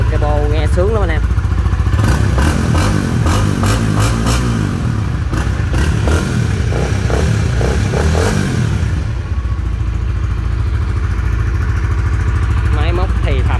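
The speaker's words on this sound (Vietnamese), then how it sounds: "được cái bô nghe sướng lắm anh em." A nearby motorcycle runs loudly, its exhaust rapping and burbling as the engine is blipped a few times before easing back to a steady idle, with brief talk.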